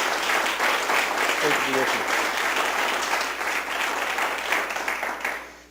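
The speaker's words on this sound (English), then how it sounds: "why don't we give these kids a round of applause for being a part of this" An audience at a governor's education event applauds a group of kids, the dense clapping loud and sustained throughout, with someone briefly speaking over it partway through.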